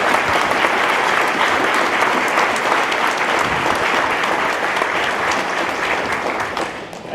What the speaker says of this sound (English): please join me in a round of applause for Jackie Sears